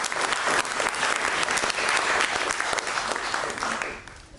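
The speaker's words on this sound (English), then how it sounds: "So give him please applause about the great concept in Groningen." Audience applause at a conference session, a full, steady burst of clapping from a large crowd that fades near the end.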